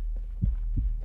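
A player character's heartbeat thumps in a video game's immersive no-HUD mode on a hard elite difficulty. Two deep, muffled beats sound close and steady over a low hum.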